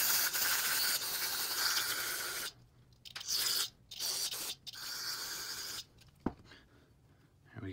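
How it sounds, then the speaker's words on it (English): Brake cleaner is sprayed from an aerosol can onto the rear brake caliper parts of a 1978 Yamaha XS1100 motorcycle, several loud close hissing bursts of varying length separated by short pauses and a single metallic click. "So next is just spraying all the stuff with some cleaner."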